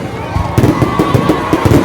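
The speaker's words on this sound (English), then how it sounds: "Our own fireworks." A fireworks display at Rudolf Elder Park in St. Thomas, with loud booms and crackling bursts in quick succession, close and prominent over a murmuring outdoor crowd.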